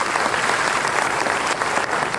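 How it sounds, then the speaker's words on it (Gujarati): An indoor audience at an award ceremony applauds, steady dense clapping at full volume with no voices over it. "એકવાર તાળીઓથી વધાવી લઈએ આપણે એ સૌને"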